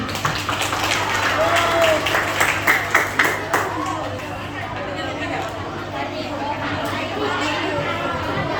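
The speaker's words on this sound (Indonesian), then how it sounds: "Tepuk tangan dong teman-teman." Applause from a student audience at a Banten student ambassador roadshow, with clapping and crowd chatter mixed together and a few sharper claps standing out before the noise settles into murmuring.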